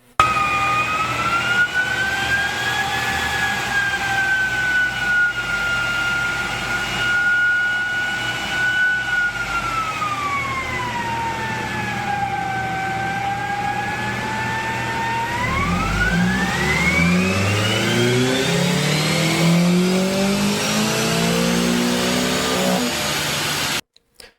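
A Honda Prelude on stock ECU settings revs hard through a dyno run, its engine whine sweeping up, dipping, then climbing sharply again in one loud, continuous pull before cutting off at the end.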